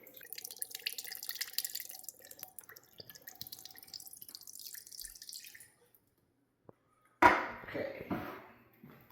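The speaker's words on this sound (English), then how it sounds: "Chicken broth, 1 can." A can of chicken broth is poured into a crockpot, making a trickling, splashing liquid pour, followed by a brief louder splash and slosh near the end.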